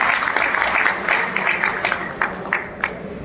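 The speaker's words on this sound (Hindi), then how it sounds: "आप अपने लिए जोरदार तालियां बजाएं।" An audience at an employees' conference claps, a steady wash of applause that thins out into scattered individual claps toward the end.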